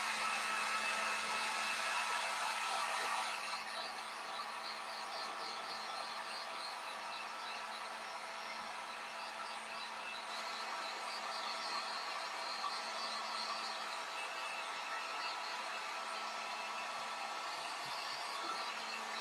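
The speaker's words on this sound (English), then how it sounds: "I have a heat gun over here, and I'm going to dry the H, the M, and the E" A heat gun on its low setting blows steadily while drying chalk paste on home decor lettering, a constant close whooshing hum that drops slightly in level after a few seconds and carries on alone.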